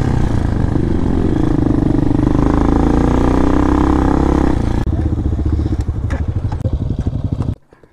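A 250cc dirt bike rides through sand in Richloam State Forest, its engine loud and close with a droning rev, then a choppier idle and rattling before it cuts off abruptly.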